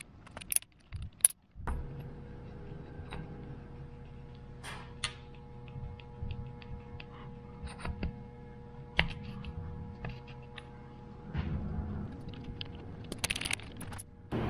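Metal engine bolts from a Subaru STI EJ25 engine build jangle and clink as they are handled and cleaned, sharp scattered rattles and taps over a faint steady hum, with a louder burst of clattering near the end.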